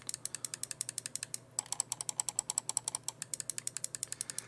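Rapid, crisp clicks of Glorious Model O Pro gaming mouse buttons repeat in a steady rhythm, close and bright, with a short pause before another fast run of identical clicks.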